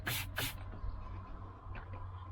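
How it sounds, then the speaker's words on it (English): Two quick, sharp bursts of wheel cleaner hiss close by as they are sprayed onto a small soft brush, followed by quiet handling and faint brushing sounds. "I'm just going to spray it onto this little soft brush"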